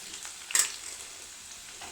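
Ginger slices fry in hot oil for an inji puli pickle, giving a soft steady sizzle with one brief crackling spurt near the middle.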